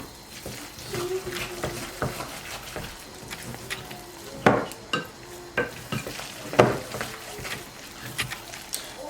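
Nut bread batter made with eggs is stirred steadily, with soft scraping and a few sharper clinks against the bowl, moderately loud and close, with no talk over it.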